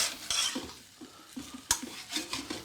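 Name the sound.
scraping stir-fried Mongolian beef in a hot wok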